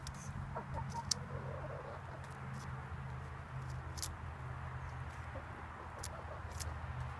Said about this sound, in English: You're nice chickens.